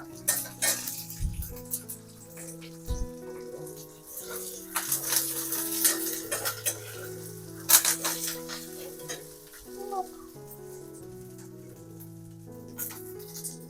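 Curry leaves and spices fry in a pan on a low flame with a soft, crackling sizzle, heard under background music, a woman's speech and a couple of utensil clinks.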